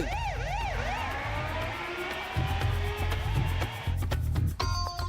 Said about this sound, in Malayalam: ആംബുലൻസും വന്നല്ലോ